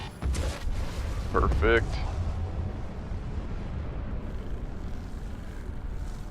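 Ship guns firing with booming explosions during a space dogfight in Star Citizen, a dense rumbling barrage that starts loud and continues under a brief spoken word.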